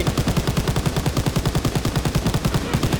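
Rapid, continuous machine-gun fire in Call of Duty: WWII, a steady rattling burst of evenly spaced shots that runs loud and unbroken for several seconds with no talking over it.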